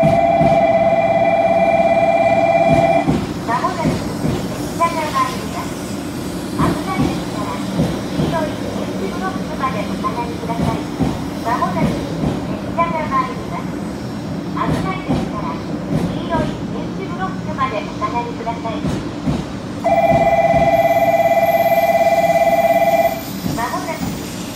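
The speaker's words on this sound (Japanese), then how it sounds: "まもなく列車が参ります。" Shinkansen train pulling into Hakata-Minami station, rumbling and clattering for a long stretch, framed by a station chime or bell at the start and again near the end, with platform announcements over it.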